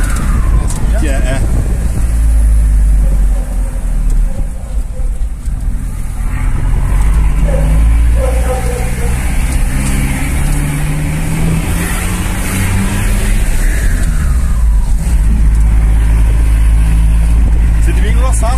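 A Hyundai HR truck with a tuned turbo engine and enlarged exhaust outlet rumbles loudly up close while driving, the engine note rising and falling as people talk over it.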